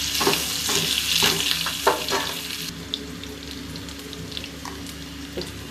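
Oil heating in a pan for mutton fried rice sizzles and crackles steadily at close range, with a few louder pops and stirring scrapes early on, then settles into a softer continuous hiss.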